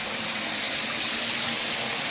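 Fresh water flows constantly through a mining tunnel, a steady, even rush of running water close by with no voices over it.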